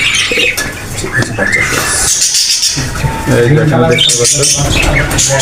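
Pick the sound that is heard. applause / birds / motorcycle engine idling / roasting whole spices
birds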